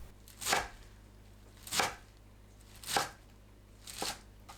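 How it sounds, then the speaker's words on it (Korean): Four evenly spaced knife chops through enoki mushrooms on a cutting board, crisp and close, roughly one per second with quiet pauses between. "팽이버섯을 1cm 길이로 썰어주세요"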